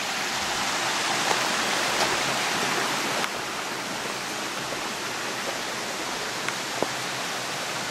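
A powerful underground spring in Crimea's Grand Canyon pours out in a dense, steady rushing roar of flowing water, loud and close, with no voices and only a few faint ticks on top.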